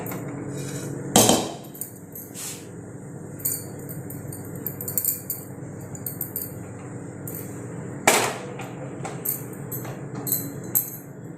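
Heavy metal clanks and knocks sound up close as a kitchen gas cylinder is changed, with two strong bangs and lighter taps and rattles in between over a low background hum.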